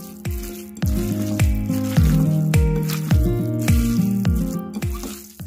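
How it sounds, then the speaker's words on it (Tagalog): Wet, rhythmic squishing as ground beef is mixed by hand with vinegar for skinless longanisa, repeating steadily and close up over a faint tonal background. "At haluin muna po natin bago po natin ilagay yung iba pang ingredients."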